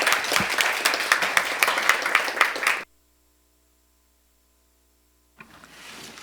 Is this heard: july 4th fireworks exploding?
no